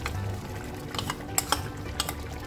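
Garam masala paste being stir-fried with paya (trotters) in a pot, heard as a low, steady sizzle with scraping stirs and a few sharp clinks of a spoon against the metal pot, fairly faint and without talk.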